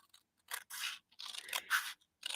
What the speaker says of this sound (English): grab our scissors, and we are actually going to cut this outside piece off